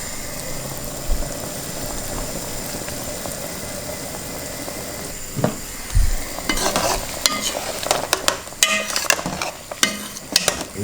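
Imperial stout beef stew with sriracha sauce cooks in a pot, a steady soft bubbling sizzle under faint hum, then scraping stirs and clinks of a utensil against the pot near the end.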